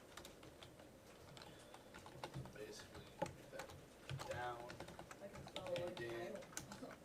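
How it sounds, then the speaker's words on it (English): Fast, uneven clatter of typing on a computer keyboard, fairly faint, with a person talking intermittently over the keystrokes. "I'm having trouble typing."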